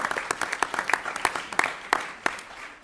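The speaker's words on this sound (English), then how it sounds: "we clapped a little bit" Brief, scattered audience applause at a city council meeting, a small group clapping unevenly for a few seconds in a room.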